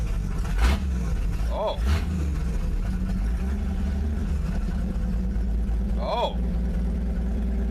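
A car engine fitted with a Rochester knock-off carburetor cranks and runs at a steady, fairly loud idle with a couple of brief starter bursts, while a person exclaims over it.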